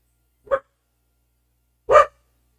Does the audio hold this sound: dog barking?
yes